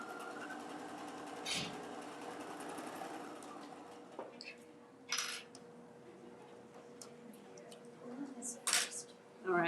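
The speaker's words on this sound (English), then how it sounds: "let's sew that real quick so you can watch me sew again" A sewing machine stitching a small fabric piece, a quiet steady mechanical whir with faint clicks and handling noises, low in level.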